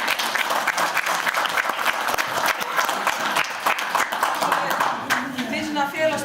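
Applause from an audience at the close of an association's annual meeting, dense steady clapping filling the whole stretch and easing slightly near the end, with some voices mixed in.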